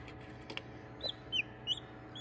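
A newly hatched bantam chick gives a few faint, high, short peeps spaced apart over a quiet background.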